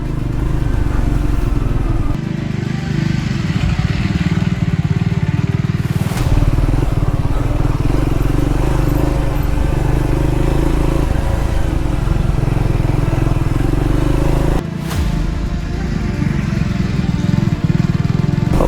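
A Triumph Scrambler 400X motorcycle rides off-road, its engine droning loud and steady at close range with a couple of sudden shifts in tone as it works over rough ground.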